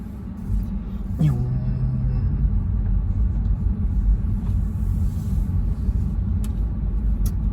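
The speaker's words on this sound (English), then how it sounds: "So I think this is the Tesla Model 3 Performance Edition" A Tesla Model 3 Performance electric car drives along a road with steady low road and tyre rumble inside the cabin, a brief tonal whine rising near the start, no speech.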